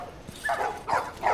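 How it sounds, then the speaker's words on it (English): A few short dog barks and yips spaced across a second, mid-loud with a slightly processed, game-like quality, from the video game The Last of Us Part 2; no talking. "Oh, look at the dogs."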